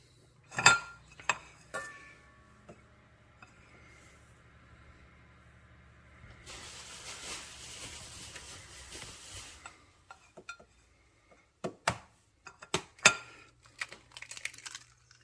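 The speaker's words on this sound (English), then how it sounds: "let's separate these yolks from the whites" Eggs being separated in a kitchen bowl for a Southern-style German chocolate cake, heard as a few sharp shell taps and clinks, a stretch of soft scraping and stirring, then scattered light clinks and knocks close by with no talking.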